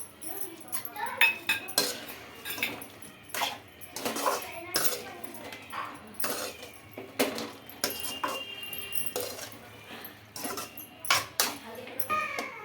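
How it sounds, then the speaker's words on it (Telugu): Maggi Manchurian being tossed with sauces in a pan, with frequent metallic clinks and scrapes of a spoon against the pan in irregular bursts, close and moderately loud against a low background. "సాసులు అన్నీ పట్టేటట్లు బాగా కలుపుకోవాలండి ఇక్కడ చూపిస్తున్న విధంగా"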